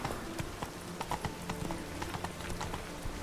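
Roach the horse trotting in The Witcher 3, a brisk, even clip-clop of hooves repeating in a steady rhythm, close and clear over a dense game-ambience bed.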